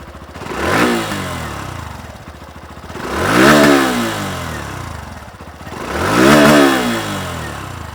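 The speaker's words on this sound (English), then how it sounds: "the Glamour's exhaust note has a bit of bass to it" Hero Glamour X 125cc motorcycle revving three times, each blip of the single-cylinder exhaust swelling and falling back to a steady idle, close and loud with no talking.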